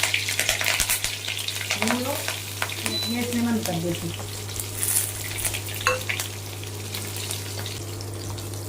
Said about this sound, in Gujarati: ખાલી જીરુંથી વઘાર કરશું થોડું જીરું સરસ મજાનું નાખશું